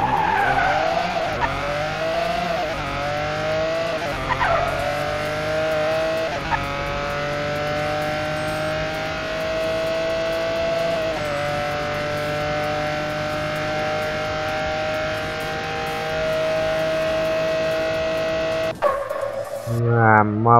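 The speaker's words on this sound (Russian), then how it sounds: "здесь можно разогнать машину по максимуму" A race car in a drag racing video game accelerates hard on a mile-long track, engine whine climbing through the gears with steady tire squeal, loud and continuous for about twenty seconds before an abrupt cut.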